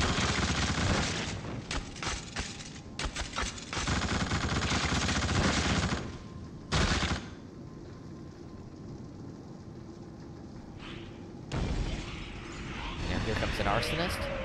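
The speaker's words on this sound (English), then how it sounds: "So we'll use the machine gun here to take care of them." Machine gun fire in The Suffering video game, loud rattling bursts in the opening seconds, then a quieter stretch and another short burst near the end, with a voice talking over parts of it.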